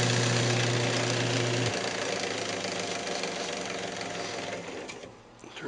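Wood lathe running steadily while a square bowl is sanded up to 600 grit, a continuous close mechanical hum and whirring rasp that holds throughout, easing slightly near the end.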